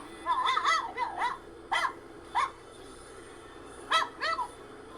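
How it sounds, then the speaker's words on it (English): A small dog named Louie lets out a series of high, squeaky yelping barks, grouped in quick pairs and singles with short quiet gaps between them, close and fairly clear. "This is what Louie sounds like when he barks"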